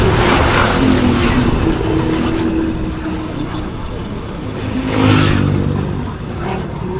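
Several motorbikes travel downhill as a group on a mountain road between Citambur and Ciwidey, their engines droning loudly and steadily with a swell as one passes close near the end; no talk.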